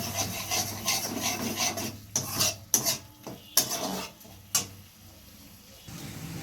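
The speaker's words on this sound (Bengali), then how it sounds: "এবারে এগুলো দিয়ে একটু নাড়ছি, একটু লেগে লেগে যাচ্ছে" Ghugni masala that is starting to stick is stirred in a pan with a little added water; a spoon makes irregular scraping and rubbing strokes, close and fairly loud, with short pauses between them.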